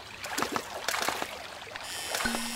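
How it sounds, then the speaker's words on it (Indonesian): Gentle water from a river trickles and splashes softly over a low background, with a few brief knocks and a faint tone near the end. "Bunyi air!"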